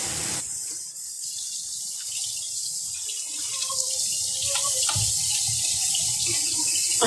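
A tap runs steadily into a sink, a continuous hissing splash that grows slightly louder over about seven seconds with no talking.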